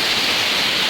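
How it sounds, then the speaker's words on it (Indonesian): The Curug Batu Gede waterfall near a pine-hill campground in Puncak, Bogor, pours as a loud, steady, close roar of falling water, with no voices. "Itu dia curugnya."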